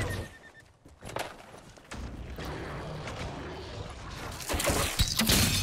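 A horse neighs loudly in the video game Dragon Age Inquisition, a whinny followed by hoof clip-clops and game effects over a steady background.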